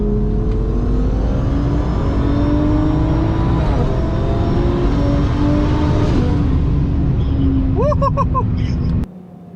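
Twin-turbo Audi R8 and big single-turbo BMW accelerate side by side, short-shifted below full throttle; a loud sustained engine roar rises in pitch through the gears, then cuts off abruptly near the end.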